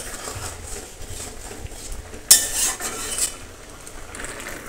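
Fish curry with potato and pointed gourd being stirred in a pot: a single sharp metallic clank of a spoon against the pot, then a few softer scraping stirs, close and otherwise quiet.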